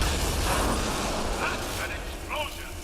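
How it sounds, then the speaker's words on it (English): An explosion booms in the video game Mass Effect Andromeda, a loud rumbling blast right at the start that fades slowly, with a brief voice near the end. "That's an explosion!"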